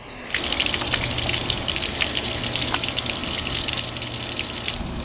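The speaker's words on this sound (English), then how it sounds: "You're just trying to fire water through it for a minute or two to ensure cleanliness" Water gushes and sprays steadily while flushing through a Mercury 40 hp outboard motor on a Tracker Heritage Classic boat, a loud continuous rushing with faint low hum underneath and no voices.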